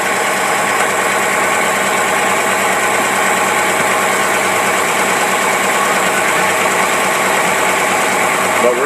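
A motorhome engine fitted with a Rochester Quadrajet carburetor idles loudly and steadily up close, with an even rumbling churn and no change in pace.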